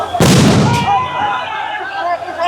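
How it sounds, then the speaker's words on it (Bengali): A sound grenade goes off at a street protest, a sudden loud blast that rings and echoes briefly before fading into crowd noise. "আপনারা দেখতে পাচ্ছেন আরো একটি সাউন্ড গ্রেনেড নিক্ষেপ করা হয়েছে।"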